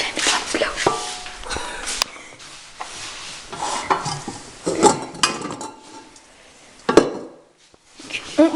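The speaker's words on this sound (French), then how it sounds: "Puis, vous mettez la farine dans le plat." Flour is tipped into a baking dish while making homemade bread, a soft dry rustle mixed with clinks and scrapes of the dish and utensils, close up and fairly quiet.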